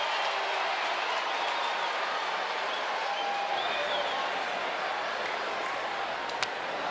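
A baseball stadium crowd at a Blue Jays vs Reds game in 2023 roars and claps in a steady, wide wash of cheering and applause, with a commentator's voice faint beneath it.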